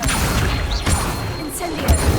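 An Incendio fire spell is cast in Hogwarts Legacy, a loud dense burst of whooshing, crackling game effects with brief bright swishes over a constant busy noise bed.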